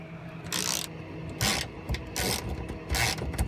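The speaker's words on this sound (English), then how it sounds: "next we're going to remove the nuts at the back of the seat" A ratchet working seat bolts loose in a 1974 AMC Gremlin, giving close, repeated bursts of rapid clicking in short strokes with brief pauses between them.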